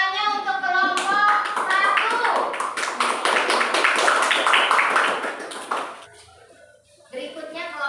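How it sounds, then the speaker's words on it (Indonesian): Schoolchildren in a classroom clap together for a group of classmates, a loud burst of rapid handclaps lasting several seconds, with children's voices before and after and a brief quiet pause near the end. "Tepuk tangannya untuk kelompok"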